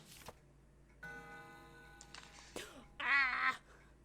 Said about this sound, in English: When I spin the long hand, the clock makes a noise.